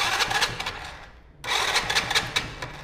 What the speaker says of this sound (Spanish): Voy a prender la motocicleta